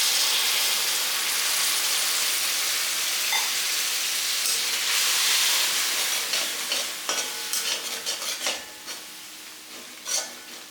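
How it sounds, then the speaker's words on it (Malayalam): Tamarind water goes into a hot rasam pot with a loud, steamy hiss and bubbling, which settles into a series of spoon clinks and stirring knocks toward the end. "നമ്മൾ ഇതിലേക്ക് ഞാൻ ഒരു നാരങ്ങ വലുപ്പത്തിലുള്ള പുളി പിഴിഞ്ഞ വെള്ളമാണ് ഞാൻ അതിലേക്ക് ഒഴിച്ചു കൊടുക്കുകയാണ്."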